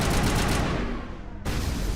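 Assault rifle gunfire in the Mass Effect shooter, a loud, dense burst of rapid shots that thins briefly and then resumes at full force, with no talking over it.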